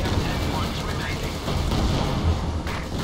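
Tank gunfire and battle explosions from Company of Heroes 2, with a Sherman engaging a T-34, form a dense continuous roar of booms and rumble over the whole span, with voices talking on top.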